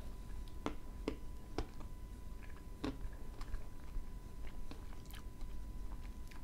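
Crisp crunching bites into crunchy food, several sharp snaps spaced irregularly over a steady low background, close to the mic and without any talking.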